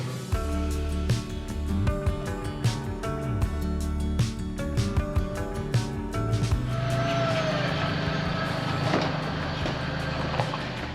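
Small truck driving slowly over grass at a homestead, its engine rumbling with thumps and creaks. Partway through the sound turns to rougher, noisier driving.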